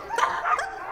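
A dog gives two quick, close barks in a short burst, clear and alone.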